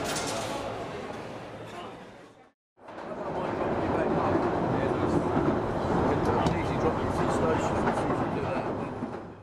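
An underground metro train rides along with a loud, steady rumble and rattle; the roar breaks off briefly once, then resumes at full strength.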